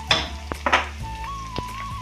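Onion, curry leaves and carrot pieces fry in a pan with a steady close sizzle, punctuated by a few sharp clinks and scrapes of a utensil stirring against the metal.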